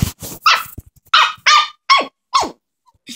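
A pug barks loudly and close by, a run of about six sharp, gruff barks with short gaps and a slight growling edge, and no talking over them.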